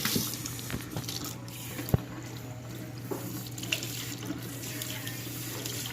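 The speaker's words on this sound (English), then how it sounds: "I'm going to rinse until the water is clear." Tap water runs steadily into a sink as long hair is rinsed under a cold stream, a continuous hiss and splash with small drips, close and alone with no talking.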